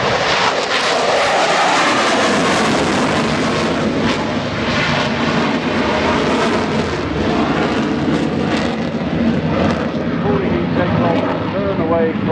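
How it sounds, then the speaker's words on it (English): A BAE Hawk jet, in service since 1976, roars past loudly at a Farnborough airshow, a steady broadband engine rush that swells and fades slightly across the pass, with a commentator's voice faintly underneath. "Hawk been around since 1976, been in the red arrows for a long time."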